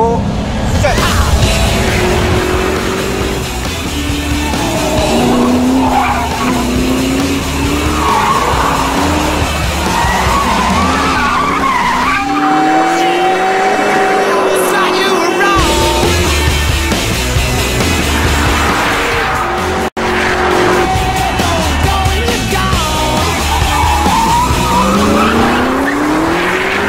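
A 2008 Ford GT racing a timed lap at Rudskogen track, its engine loud and continuous with rising and falling revs through gears and a brief lull mid-lap, while a voice talks over it at times.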